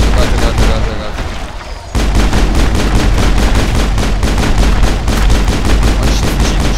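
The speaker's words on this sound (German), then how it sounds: "Das Ding ist ja fast ein Maschinengewehr" Rapid bursts of machine-gun-like gunfire from a weapon in the video game Mass Effect, loud and continuous with a short lull near the start, a voice talking over it.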